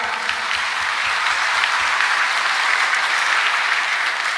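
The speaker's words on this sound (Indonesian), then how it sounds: "Tepuk tangan." Steady applause from a crowd, a dense wash of clapping that holds at an even level for several seconds.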